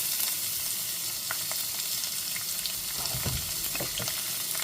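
Onions and curry leaves hit hot oil with popped mustard seeds and urad dal for chayote kootu. A loud, dense hiss of frying fills the space nearby, with scattered crackles and stirring noises and no voices.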